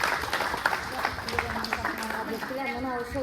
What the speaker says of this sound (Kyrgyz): Кол чаап коебуз